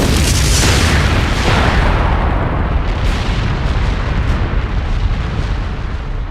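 In a Doctor Who audio drama, a fleet opens fire and a loud, rumbling explosion booms at once, then decays slowly into a long, heavy roar that fills the whole stretch.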